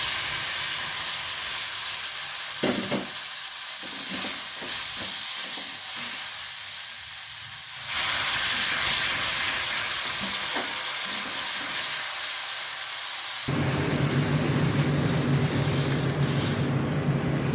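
Red lentil masoor dal with chilli powder cooks in a pan with water added, giving a continuous loud sizzling hiss with faint stirring clatter, then a sudden shift to a fuller, rougher bubbling boil near the end.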